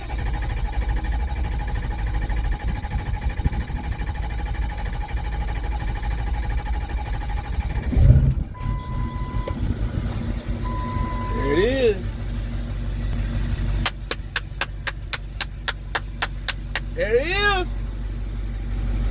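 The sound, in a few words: 2006 Ford F350 6.0 Powerstroke engine cranking and starting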